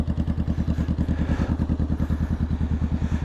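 A 2016 Harley-Davidson Street Glide touring motorcycle runs with a deep, loping, evenly pulsing engine beat, loud and close, with no voices over it.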